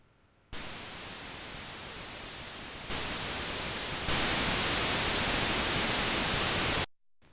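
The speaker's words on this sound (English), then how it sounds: "and that's white noise." Roland Alpha Juno 2 synthesizer producing steady white noise, stepping up in loudness over several seconds before cutting off abruptly, with no voices present.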